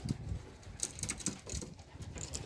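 Young female homing pigeons out on a training flight, giving soft scattered wing flutters and light pattering bursts over quiet outdoor background, with no talking.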